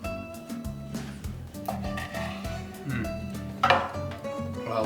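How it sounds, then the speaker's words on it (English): A knife chops tomatoes, cilantro, green onions and red onion for salsa, with steady close knocks on a board and a few clinks of kitchenware. "So I'm gonna chop all this up and add it to our bowl."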